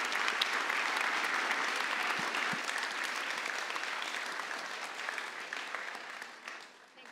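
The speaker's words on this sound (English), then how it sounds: "with a big round of applause, please welcome the power couple" An audience gives a big round of applause to welcome Mar and Matt Hershenson at a Berkeley lecture event, with dense, sustained clapping that fills the room and tapers off near the end.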